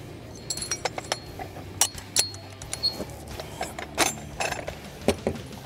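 Metal parts of a Paratech vehicle stabilization kit, a one-foot extension, strut and base, being set up: sharp metallic clinks and clanks in an irregular series, close by.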